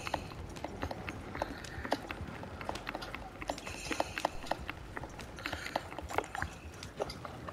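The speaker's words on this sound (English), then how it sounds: "This time I'm gonna use my horse and just ride him out." A horse galloping in the Red Dead video game, with rapid rhythmic hoofbeats and clinking tack drumming steadily and fairly close throughout, with no talk over them.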